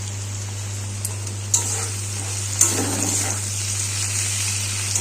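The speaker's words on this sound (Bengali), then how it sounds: "টমেটো কুচিটা দিয়ে দেবো।" Chopped tomato added to potatoes frying in a pan with salt and turmeric, giving a steady soft sizzle with two brief clatters of stirring over a constant low hum.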